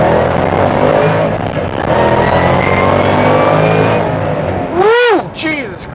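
A Ford Mustang GT500 on sticky tires, with new wheels, springs and an adjustable panhard bar, roars under hard second-gear acceleration. The engine note holds steady and loud from inside the car, then ends in a sudden excited shout.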